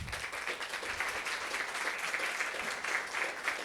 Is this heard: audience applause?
yes